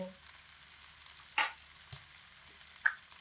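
Potatoes and vegetables fry in a pan with a steady, quiet sizzle, broken by a few sharp clicks and taps of a utensil stirring.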